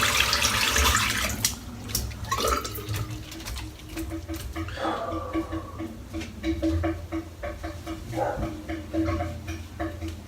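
Running tap water rinsing soap out of a dense Kabuki Knot shaving brush, a steady splashing wash with brief squeezes and drips, close and fairly loud throughout.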